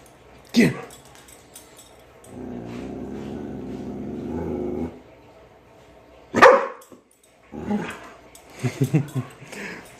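Rusty the dog growling at a mannequin, a sustained low growl of a few seconds, with sharp barks before and after and a voice talking in between.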